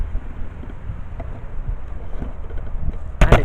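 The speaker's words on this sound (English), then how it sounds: "It's so windy." Strong wind buffets the open air outdoors as a steady low rumble that swells into a louder gust at the end, with no speech.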